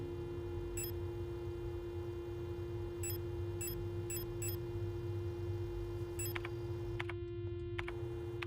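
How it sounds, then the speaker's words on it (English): Short electronic beeps in a video game, sounding singly and in small clusters at irregular intervals over a steady low hum, ending with a denser burst of rapid bleeps. "Why is there a beep sound?"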